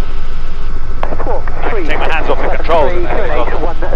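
Helicopter cabin noise in flight: a loud, constant engine and rotor roar fills the whole stretch while a pilot talks over it on the intercom.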